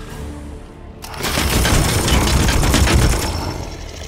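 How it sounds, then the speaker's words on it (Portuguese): After a quiet second, a loud, sustained burst of gunfire in the video game Warhammer 40,000: Chaos Gate - Daemonhunters erupts and rattles on for a few seconds before easing slightly. "Vou dar só um tiro normal nele."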